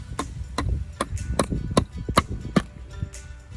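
A rubber hammer taps a pin into a power pole with about nine sharp, close knocks at an uneven pace, each a short dull thud.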